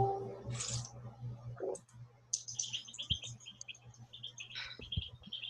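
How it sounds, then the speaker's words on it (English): A duckling preening after a swim lets out scattered soft, high peeping chirps, faint and close, over a low steady background hum. "I can hear the birds. Or is that the duckling? That's the duckling."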